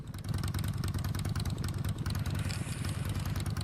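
Steady motorcycle engine idling with a rough, pulsing low rumble in a roleplay video game, loud and close throughout, no voices.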